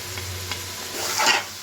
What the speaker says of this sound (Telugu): పసుపు పొడి వేసాక బాగా మిక్స్ చేస్తాము